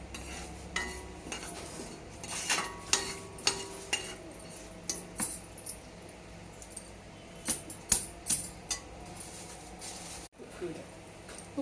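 Chana dal and cumin seeds stirred in a pan on the stove, with repeated light metallic clinks and scrapes of a spoon against the pan, faint and near, with quiet background hum.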